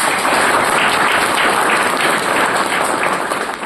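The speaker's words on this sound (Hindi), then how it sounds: "आप उनके लिए जोरदार ताली बजाइए" A college audience in Indore claps loudly and steadily in honor of a professor, a dense wash of applause that holds throughout and eases slightly at the end.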